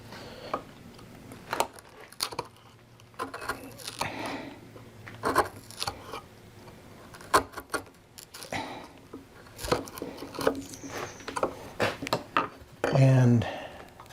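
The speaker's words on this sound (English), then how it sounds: "I've got some angled chisels here that help to get back in that back corner" Angled chisels pare wood inside a dovetail socket cut into a table leg, producing scattered close scraping and shaving strokes with irregular taps, with a person talking intermittently over the work.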